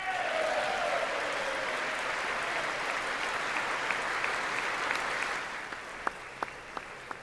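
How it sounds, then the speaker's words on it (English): Sustained crowd applause in the chamber during a State of the Union address, loud and dense, then thinning out into a few distinct individual claps near the end. "The cameraman clapping is really distracting"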